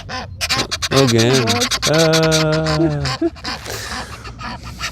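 Nearby ducks, a male and a female, give loud honking quacks in two drawn-out calls, followed by softer background noise, and a voice speaks briefly.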